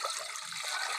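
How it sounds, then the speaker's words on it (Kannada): Water pours steadily into a cooking pot for a village-style field bean (avarekalu) curry, a brief, even splashing rush with no voices. "ಅವರೆಕಾಳು ಸಾರು ಮಾಡೋಕ್ಕೆ ನೀರು ಹಾಕ್ತಾಯಿದ್ದೀನಿ"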